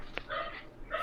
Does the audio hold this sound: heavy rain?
no